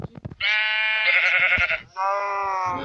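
Two long, wavering Minecraft sheep bleats sound close by, one after the other, with a few short clicks before them.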